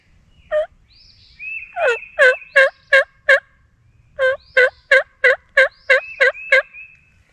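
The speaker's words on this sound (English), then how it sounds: "the birds start waking up and begin to gobble." At dawn on a ridge in turkey season, wild toms gobble in two close, loud bursts of quick rattling calls separated by a brief pause, with no talking.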